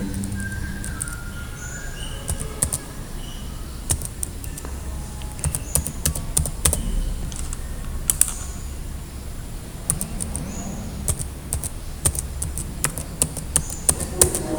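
Someone types on a computer keyboard, producing irregular runs of close, crisp key clicks with short pauses, steady throughout and with no speech.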